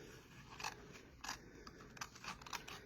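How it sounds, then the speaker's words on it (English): Paper is cut with snips in a few quiet, separate crisp snipping strokes, close and faint with no talking. "And then I will cut this part off with my snips."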